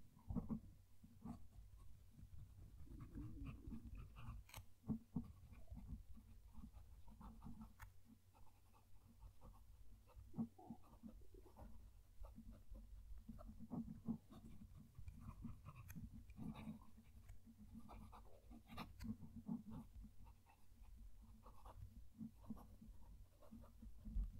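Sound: fountain pen nib writing on paper

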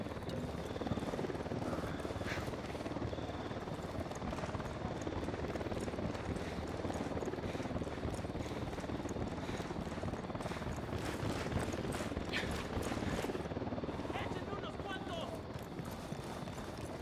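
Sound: helicopter approaching, from video game Ghost Recon Wildlands

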